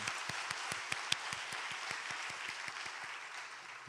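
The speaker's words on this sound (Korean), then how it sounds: "우리 하나님께 다시 한번 큰 영광의 박수 올려드리시도록 하겠습니다" A congregation at a church worship service claps in a steady, even rhythm, a fairly faint, regular beat of many hands with a sustained wash of applause under it.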